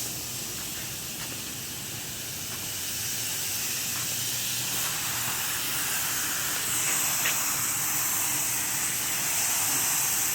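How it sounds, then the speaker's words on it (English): A spray gun applies 2K high build primer in a garage, giving a steady, continuous airy hiss throughout, close and loud, with no talk. "We're fixing to put the last coat of primer on."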